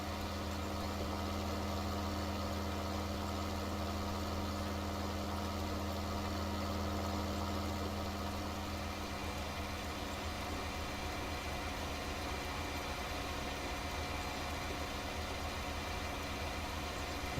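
A tractor engine idling in a farming video game, a steady low mechanical drone with a constant hum that runs unbroken for the whole stretch, with no talk over it.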